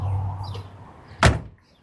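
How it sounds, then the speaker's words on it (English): Door of a 1967 Chevrolet Chevelle convertible with a big-block 396 V8: a soft mechanical rustle, then one solid, close thunk as the door shuts, followed by quiet. "And both doors open and close extremely well."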